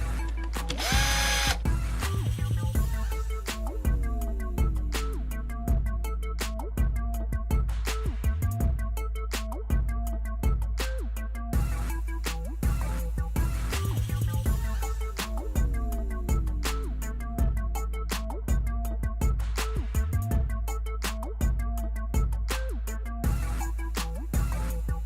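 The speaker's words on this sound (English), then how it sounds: "I just set my little drill here at 7 pounds, and then slowly start tightening them down in a star pattern." Small cordless drill with its clutch set at 7, tightening dirt bike clutch cover bolts on a Honda XR400 in a star pattern, repeated whirring bursts ending in ratcheting clutch clicks, close and loud.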